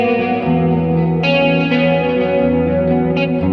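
Electric guitar with Prodigal pickups rings out sustained, layered chords with a clean, effects-tinged tone, loud and up front with no talking.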